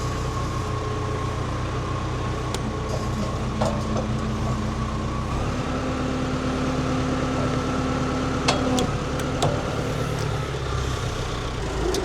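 A tractor engine runs steadily in a low, continuous drone, heard from inside the cab with occasional faint clicks and rattles.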